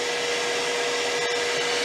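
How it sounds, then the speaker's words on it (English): A hairdryer powered by a VTOMAN Flashspeed 1000W power station, blowing with a steady loud whooshing roar and a faint whine, unbroken and with no talk. "we've given it a bit of a kick in with this hairdryer"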